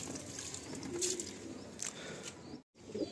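Pigeons coo softly inside a loft, low rolling calls repeating at intervals with faint wingy rustles and occasional light chirps, fairly quiet and close with no voices.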